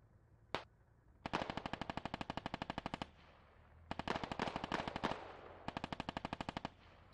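Squad video game automatic gunfire: one sharp isolated shot, then three long rapid bursts of machine-gun fire, evenly paced and fairly close, with short gaps of quiet between them.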